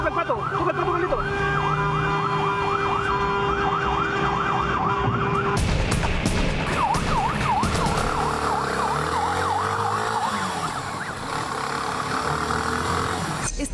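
Loud police sirens wailing up close during a police chase, a rising-and-falling wail joined midway by a faster yelping pattern, with engine noise and some voices underneath.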